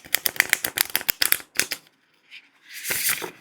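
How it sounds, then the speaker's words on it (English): Riffle shuffle of a stiff-stock tarot card deck, a rapid close flurry of crisp flicking clicks, a brief pause, then a second softer riffle burst. "It's quite a stiff stock. So it's not an easy riffle shuffle."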